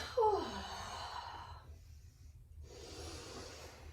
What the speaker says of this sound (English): big deep breath in your own time